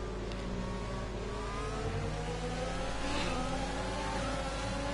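Formula 1 McLaren engine in a racing video game, a high, steady revving whine that swells as the car approaches, with layered engine harmonics and no talk.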